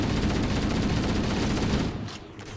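Sustained automatic gunfire from Halo: Combat Evolved, a dense unbroken stream of shots at steady loudness that cuts off near the end.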